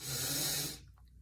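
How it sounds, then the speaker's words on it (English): A single soft, close inhaling breath, airy and hissy, lasting under a second before fading to near silence. "Focus on how it sounds when you breathe in"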